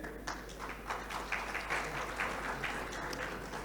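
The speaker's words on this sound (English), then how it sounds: "Please have a round of applause for them." An audience at a hall session applauds. A steady, moderately distant patter of many hands clapping runs throughout at low level.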